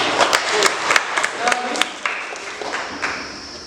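Scattered applause from a classroom of students, a few claps at a time, fairly close and uneven, with faint voices mixed in over roughly four seconds.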